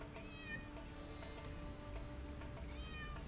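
A cat meows repeatedly in Naruto Ultimate Ninja Storm 2, a few soft, short mews scattered over quiet game background sound, no talking.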